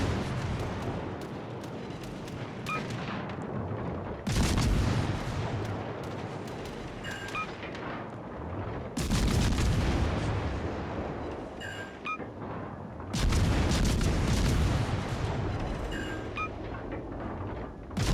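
A Pan-American naval cruiser fires in a video game sea battle, with four heavy broadband salvos spaced a few seconds apart, each a loud booming burst trailing into a rumbling roar.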